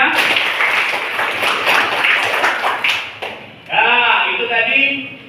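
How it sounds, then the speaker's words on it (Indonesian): Classroom of students applauding together, a dense burst of clapping that fades, then a teacher talks over the room. "Tepuk tangan semuanya."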